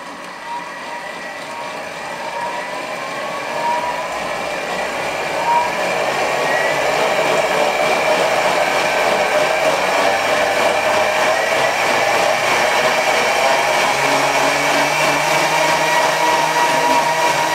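A Thermomix food processor whirs loud and alone, its motor starting low and ramping up in pitch and volume toward top speed 10, then holding a steady high whine.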